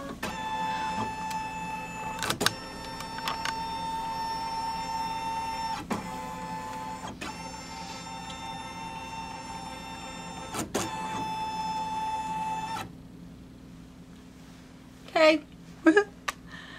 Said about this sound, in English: I'm going to scan in the fabric again